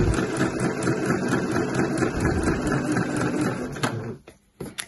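A sewing machine runs steadily, stitching a second line along velvet T-shirt sleeves with flying bobbins, then stops with a few short whirs near the end.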